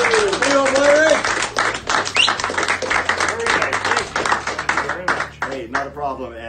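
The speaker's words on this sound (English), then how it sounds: "A round of applause again here for Myron." A round of applause rises for an employee at a radio station's Employee of the Month presentation. Dense clapping runs throughout, mixed with lively talk and laughter from the people gathered.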